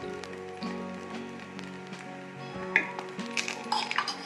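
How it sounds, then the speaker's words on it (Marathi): Appe frying in oil in an appe pan, a steady crackling sizzle with scattered pops and a few sharper spatters near the end, close and continuous. "थोडे थोडे तेल टाकून मी आता आप्प्यांची खालची बाजूही छान खरपूस भाजून घेते"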